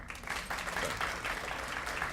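Audience at a high school scholarship luncheon applauding, a dense, even wash of clapping throughout, fairly soft and slightly distant.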